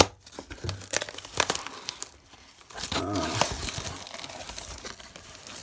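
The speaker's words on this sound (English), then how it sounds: "I'm trying to be gentle with the cutting because I don't want to cut what's inside, but I do want to cut this duct tape." Scissors cut through duct tape sealing a mystery box from Denmark, close crinkling, tearing and crackling of tape and cardboard in uneven bursts, with a longer tearing stretch midway.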